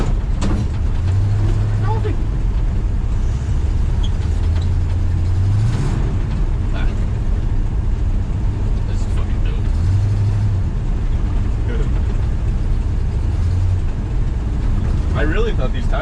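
A Squarebody K10 pickup truck pulling away in snow: a low engine rumble that rises into a few brief revs, with people talking over it throughout.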